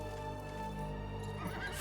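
A horse in the video game Darksiders III whinnies loudly and close, a long shaky neigh rising and falling, with no talking over it.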